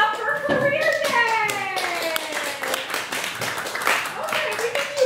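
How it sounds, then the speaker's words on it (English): A classroom of children claps for career day, a dense burst of hand claps with voices and high tonal sounds layered over it throughout. "Let's clap it up for career day."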